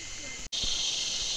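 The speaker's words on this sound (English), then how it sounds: "As you can hear, all the cicadas." A constant, high shrill of cicadas fills the air in Eungella National Park, a dense steady buzz broken only by a brief dropout, with faint low bumps beneath.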